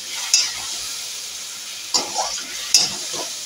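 Potato and soya chunks frying in a pan, a steady close sizzle with three sharp scrapes and stirs spaced across it, no talking.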